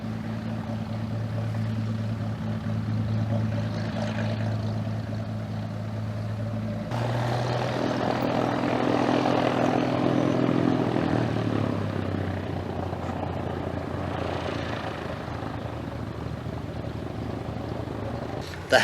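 Light propeller aircraft coming in to land for fuel at a remote outback airstrip, a droning engine hum with steady tones that shifts pitch as it descends, moderately distant, with a voice talking over it.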